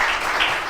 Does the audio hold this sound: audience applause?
yes